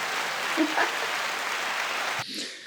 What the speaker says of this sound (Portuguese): Por favor, aplausos.